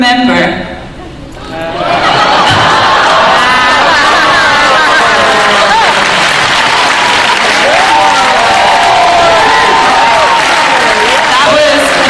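A large convention audience at a Karen Gillan panel at DragonCon 2015 breaks into loud, sustained applause that swells quickly and keeps going, with cheers and crowd murmur mixed in.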